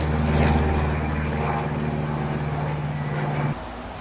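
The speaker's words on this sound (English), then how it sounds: "Tiny little noisy planes." Small, noisy propeller plane with two people aboard flying overhead above a rose garden, a loud steady droning engine hum that drops off near the end.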